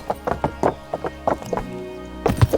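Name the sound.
horse hooves trotting in video game Kingdom Come Deliverance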